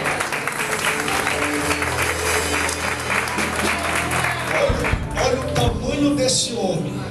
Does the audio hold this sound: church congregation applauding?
yes